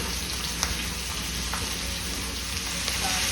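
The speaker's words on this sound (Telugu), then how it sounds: "తాలింపు వేగింది. ఇది ఉల్లిపాయలు వేసేసుకున్నాం." Spices and onions fry in a pan for a tempering, giving a loud, steady close-up sizzle with a few small pops and stirring scrapes and no talking.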